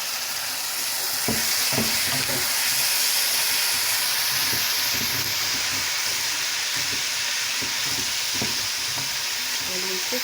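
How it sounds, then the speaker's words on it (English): Carrots and tomatoes are added to browned onions in a pan, giving a steady, loud, close sizzling hiss with scattered soft stirring clicks throughout. "our onion has turned brown, so we are going to add carrots plus"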